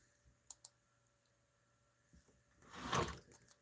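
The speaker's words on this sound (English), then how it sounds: "If I can type right." A few quiet clicks on a computer keyboard in a basement room, two sharp taps early, then a denser burst of typing near the end, with no speech.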